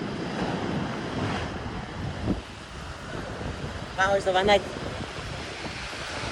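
Sea waves washing onto the shore at night, a continuous rushing surge mixed with gusty wind buffeting the microphone, while a voice speaks briefly partway through.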